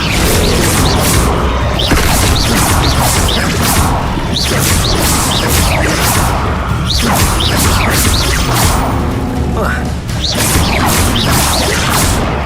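Spell effects from the Hogwarts Legacy video game, including the Levioso levitation charm, as dense loud whooshes, crashes and booms in rapid succession over continuous game noise.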